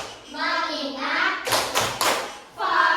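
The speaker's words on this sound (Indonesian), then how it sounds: "Coba sebelum itu kita tepuk fokus." Schoolchildren in a classroom clap out a rhythmic focus clap, three sharp loud claps in quick succession between stretches of a teacher and children chanting and talking.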